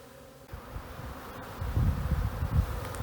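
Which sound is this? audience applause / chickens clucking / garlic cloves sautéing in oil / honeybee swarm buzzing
honeybee swarm buzzing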